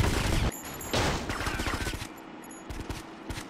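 Gunfire in the video game GTA Vice City: a few bursts of rapid shots, loud and close, separated by brief gaps, with short high electronic tones from the game in between.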